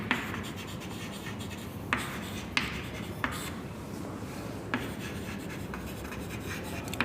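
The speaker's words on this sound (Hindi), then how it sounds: "तो हम लिखेंगे" Chalk or marker writing on a board during an accountancy lesson, continuous scratchy rubbing strokes with periodic sharp taps as letters are finished, close and steady, with no talk over it.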